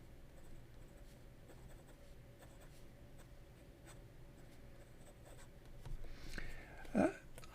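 An extra fine hooded-nib Hongdian fountain pen scratches faintly across paper in soft continuous strokes, quiet and close, ending in a brief louder rustle near the end.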